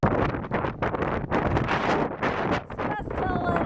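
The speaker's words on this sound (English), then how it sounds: "Just a little windy." Strong gusts on a windy day buffet the microphone in loud, rough rumbling bursts that swell and dip throughout, with a faint high tone near the end.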